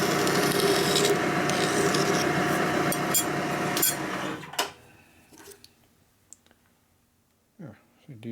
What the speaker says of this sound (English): We didn't cut the nut, but we did cut the rust off the nut.